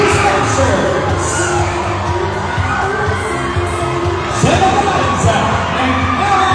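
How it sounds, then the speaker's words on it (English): A large crowd at a pool tournament event cheers, whoops and claps loudly and continuously, with children shouting and an announcer's amplified voice mixed in. "How about a big round of applause, ladies and gentlemen, from the Green Line Pool Smashers"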